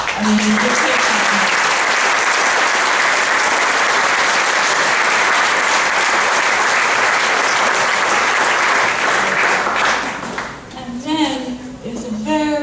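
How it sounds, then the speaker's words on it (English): Loud, dense applause from a gala audience, thanking volunteers, fills about ten seconds before fading as a voice begins talking. "Let's clap."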